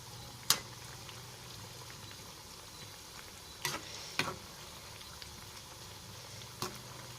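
Potato pieces frying in very hot oil on a home kitchen stove, a quiet steady sizzle and bubble with a few sharp clinks of a utensil against the pan.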